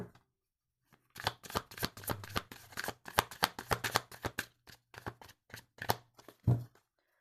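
Tarot-style playing cards are shuffled and laid out one by one in a quick run of crisp flicks and slaps, close up and alone against a quiet background.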